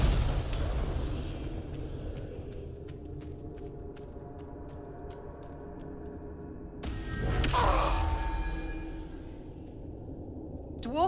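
Gaatlok explosive barrels go off in the Dragon Age Inquisition video game, a booming blast with rumble and debris after a stretch of low game ambience, with no speech over it.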